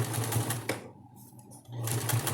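Domestic sewing machine stitching fabric for a double-sided diaper cover, running in fast, steady rattling bursts that pause briefly in the middle before resuming, close and clear.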